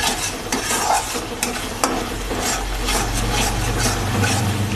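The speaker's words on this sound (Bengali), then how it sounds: "এবার আবার মশলাগুলো ভালো করে ভেজে নেব" Spices being fried and stirred in a pan for dhaba-style chicken bharta, a steady close sizzle with repeated scraping and rubbing strokes of a spoon against the pan throughout.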